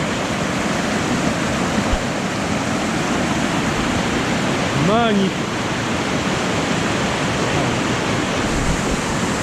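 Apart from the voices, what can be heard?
waterfall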